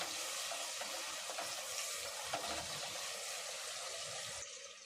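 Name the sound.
onions frying in a pan for biryani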